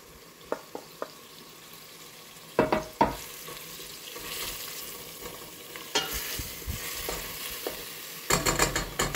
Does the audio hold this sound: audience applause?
no